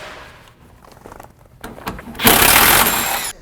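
Power tool working on the cab-to-frame bolts of a 1970 Chevrolet C20 truck: a few soft clicks and short bursts, then a loud, harsh whirring run of about a second that cuts off abruptly.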